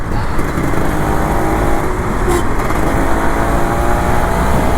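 A Kawasaki Ninja RR 150 two-stroke motorcycle revs up close, its engine droning loud and continuous with wind rush over a few seconds.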